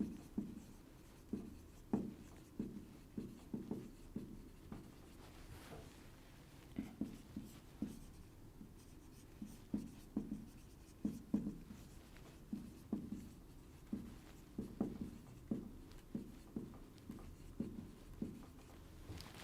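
A teacher writes on a board during a trigonometry lesson, making faint, close chalk taps and short scratchy strokes in irregular clusters that run steadily for around twenty seconds without speech.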